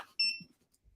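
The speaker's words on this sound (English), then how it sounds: "Beep." A single short electronic beep from a portable power station, a clean bright tone lasting about a quarter second in an otherwise quiet room, with faint handling noise after.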